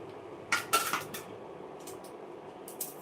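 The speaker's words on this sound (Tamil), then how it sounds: "சின்ன உள்ளி ஒரு கால் கிலோ எடுத்திருக்கேன் அதை நான் வந்து இப்போ கட் பண்ணிகிட்ருக்கேன்" A knife cuts through a quarter kilo of small shallots on a board, giving a few sharp clicking chops in a quick cluster, then a pause and one more faint chop, close and fairly quiet.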